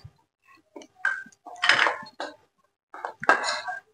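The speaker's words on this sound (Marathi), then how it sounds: "तर आता हे दोन्ही पीठ मी मिक्स करून घेणार आहे" Gram flour and rice flour are mixed in a bowl, with a scattering of sharp clinks and scrapes of a utensil against the dish in short, irregular bursts separated by silence.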